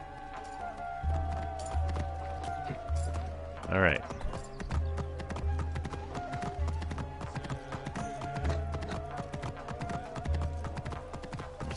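A horse gallops steadily in Assassin's Creed Origins, its rhythmic hoofbeats clopping throughout, with a brief whinny midway and someone speaking over the game sounds.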